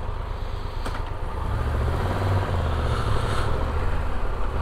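A Triumph Tiger 1200 motorcycle engine runs steadily with a low, rough rumble and a faint mechanical noise flagged as a fault, heard close and continuous with no talking.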